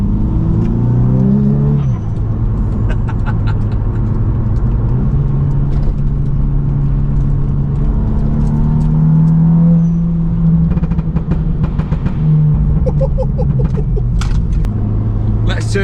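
An abandoned VW Scirocco R drives, its engine droning steadily with rising and falling pitch as it revs through gears, a loud continuous rumble close by from inside the cabin, with occasional clicks over it.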